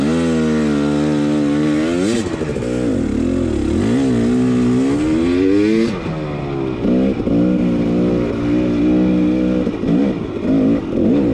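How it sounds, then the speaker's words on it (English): A trail vehicle's engine revs up and down in several loud, close race revs, a sustained mid-pitched roar that rises and falls with no talking. "Give me a couple of race revs"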